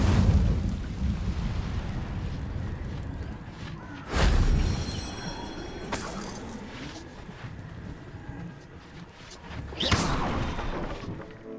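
A fire spell is cast in Hogwarts Legacy: several loud whooshing bursts of flame flare up over a rumbling game soundscape, with the biggest flares coming in separate bursts.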